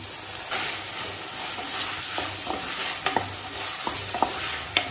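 Onion and tomato sauté with cinnamon, clove and cardamom for an egg kulambu. Steady close frying sizzle is broken by a few light scrapes and knocks of a spoon stirring the pan, with no talking.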